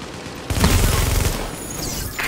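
Gunfire from The Division video game bursts in suddenly after a short quiet moment: a loud, dense volley of rapid shots that tails off into a rumbling echo.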